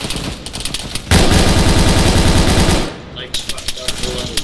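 Sustained rapid automatic gunfire rattles loudly and up close in the military shooter Arma 3, a continuous burst in the middle with scattered single shots before and after.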